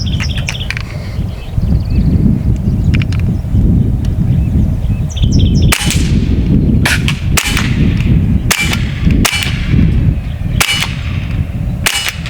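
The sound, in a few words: AEA SF .30 cal air rifle firing semi-auto shots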